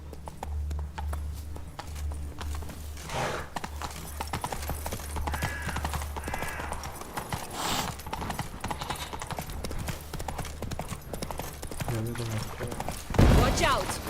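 A horse gallops in a video game, its hooves beating a quick, steady clip-clop that runs for several seconds beneath music and occasional voices.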